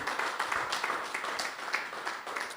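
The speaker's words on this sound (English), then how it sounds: "Please, a big round of applause for Bikia, for what she's been doing." Audience applause at the Beeta Playwright Competition, a dense, steady wash of many hands clapping together, sustained at moderate level and fairly distant, with no talk over it.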